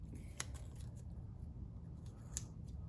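Scissors snip a piece of tape during a 302 Windsor engine rebuild, with faint close crisp cuts and light rustling over a quiet low hum.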